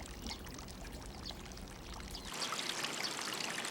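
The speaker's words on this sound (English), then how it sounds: "They do the washing up in Satoyama villages" Water splashes and pours in a riverside channel where dishes are washed up in a Satoyama village, a soft trickle and stream that turns to brighter splashing partway through, with no voices.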